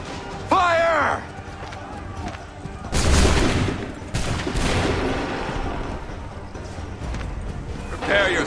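Soldiers in Assassin's Creed III fire a musket volley, a loud massed crack followed by a second thunderous salvo, with shouted commands and battlefield noise around them.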